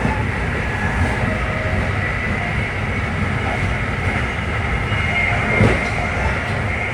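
Amtrak passenger train riding the rails between New York and Philadelphia, heard from inside a car as a steady rumbling roar with faint wheel clatter and a brief louder thump near the end.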